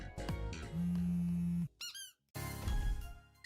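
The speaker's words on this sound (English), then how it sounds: "Squeaky noise" Squeaky noises in a video game, a few sharp rising and falling chirps in a brief burst between louder stretches of game sound, with no talking.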